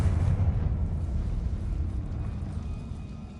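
A Confringo blasting spell bursts in Hogwarts Legacy with a heavy, rumbling explosion that starts loud and slowly fades into a low roar.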